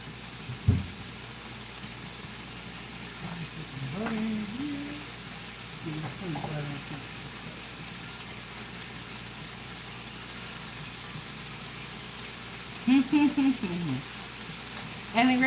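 Butter with canola oil sizzling in a skillet, a steady soft crackling hiss near the mic, with occasional clinks and brief scraping sounds over it.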